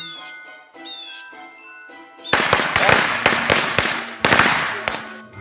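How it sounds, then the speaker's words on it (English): Firecracker bursts crackle loudly and close, a rapid string of sharp pops filling the second half after a quieter stretch of tonal squeaks and background sound. "You lighting firecracker?"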